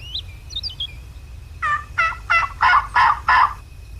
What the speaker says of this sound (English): Owl hoot, got him gobbling.